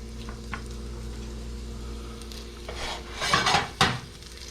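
Garlic and pepper strips drop into shimmering hot oil in a pan, starting a steady sizzle that flares loudly as the food goes in, with a clatter of utensil against pan and no talk.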